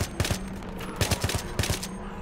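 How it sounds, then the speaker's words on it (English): Enemy gunfire in a Battlefield 3 battle: rapid automatic bursts crack out in three clustered volleys at steady intervals, loud and close, with no talk over them. "there's just a bunch of enemy troops over there shooting"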